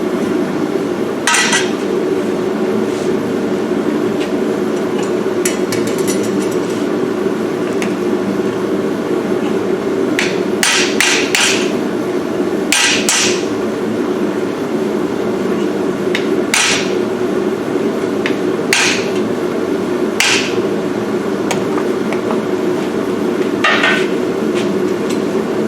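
A hammer strikes iron over the horn of an anvil in irregular bursts of sharp ringing clangs, loud and close, with pauses between groups of blows and a steady hum beneath.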